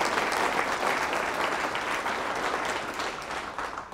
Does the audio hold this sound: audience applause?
yes